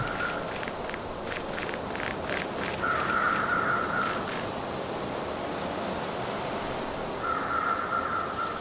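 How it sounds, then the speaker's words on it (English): Video game outdoor ambience of steady wind and rustling trees with crow calls cawing in two short runs, plus a few soft footstep-like thumps early on. "you're going to hear a few wind gusts"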